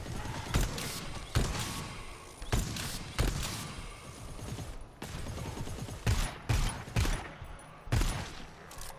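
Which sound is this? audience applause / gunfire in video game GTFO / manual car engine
gunfire in video game GTFO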